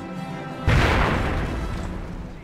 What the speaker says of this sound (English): And this is getting bombarded pretty hard